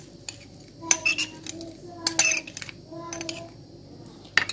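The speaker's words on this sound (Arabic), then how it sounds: "بعد كده هنحط الليمون الاسود فيها" Dried black lemons drop into a glass of water, giving a few bright clinks and knocks against the glass spread over a few seconds in a quiet kitchen.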